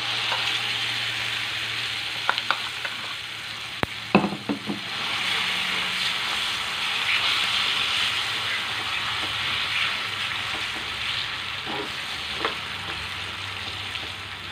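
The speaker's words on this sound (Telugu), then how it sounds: "తీయిన తర్వాత మనం నూరి పెట్టుకున్న పచ్చడి ఇందులో వేసేద్దామండి." Ground gongura and red chilli chutney fries in a pan with a soft, steady sizzle, broken by a few sharp knocks and clinks of a spoon against the pan early on.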